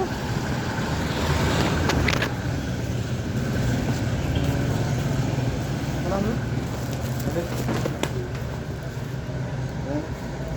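A small motor vehicle engine drones steadily from inside the ride, with road rumble, occasional clatter and people talking over it.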